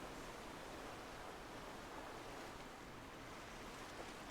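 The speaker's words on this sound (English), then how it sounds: "The nice sound of the waves lapping on the shore." Waves lap on a shore in the video game Chef RPG, a continuous soft washing hiss of surf at an even level with no talk over it.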